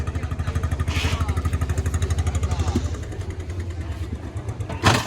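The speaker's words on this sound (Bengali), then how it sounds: "এই যে আরও একটি ট্রলার সাগরে চলে যাচ্ছে" A fishing trawler's diesel engine chugs steadily at sea, a rapid, even thumping pulse that is loud at first and then eases off, with a voice talking over it.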